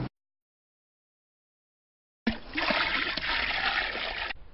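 After a long silence, an asafoetida and lime soda solution is poured into 100 litres of water, a sudden close splash settling into two seconds of steady pouring and trickling.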